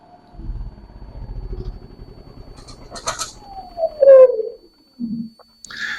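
A Predator 11500 generator fitted with an extended run time fuel kit runs with a low rumble for a couple of seconds, then cuts out, leaving birds cooing and calling nearby.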